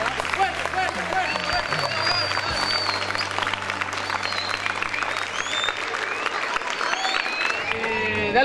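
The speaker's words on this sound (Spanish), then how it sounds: "un aplauso para todos nosotros que pudimos hacer esto" Crowd applause at a mini basketball gathering, sustained clapping from many hands with cheering and chatter mixed through it, steady in level.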